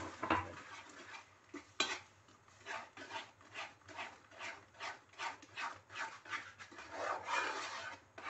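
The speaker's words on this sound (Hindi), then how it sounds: "चम्मच को मैं यहाँ तेज तेज चलाऊंगी" A spoon quickly stirs besan and milk in a pan, making a fast, regular run of close metallic scrapes and clinks, roughly two or three strokes a second.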